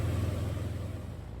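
Steady droning rumble from a Thorp T-211 Sky Skooter light airplane at wide open throttle, about 2,600 RPM in flight, a continuous even engine hum with no voices.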